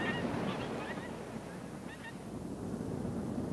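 Wrangel Island snow geese honk in a loose, overlapping flock chorus, several calls rising above a steady wind-blown background rumble.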